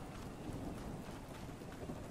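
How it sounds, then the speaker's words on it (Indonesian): Steady rain in the survival game Ark Survival Ascended, a dense, even hiss of falling rain with a low rumbling undertone, fairly faint and continuous with no talk. "Oh, hujan dong harinya"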